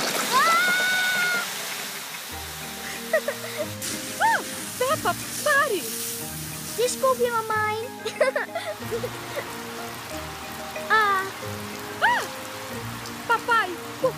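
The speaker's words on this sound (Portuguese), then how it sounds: "Vamos usar a mangueira para limpar essa sujeira." Water splashes and spatters from a garden hose in a cartoon car wash, a steady wet spray under excited cartoon voices that shout and talk over it.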